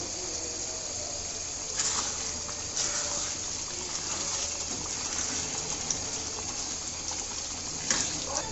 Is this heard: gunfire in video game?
no